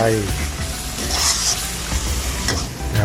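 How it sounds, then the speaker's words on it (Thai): Minced pork with oyster sauce stir-fries in a pan for pad kra pao, producing a continuous close sizzle with stirring scrapes and a few brief clanks of the spatula. "ผัดให้เข้ากันอีกครั้งหนึ่งนะครับรอให้น้ำงวดลงมา"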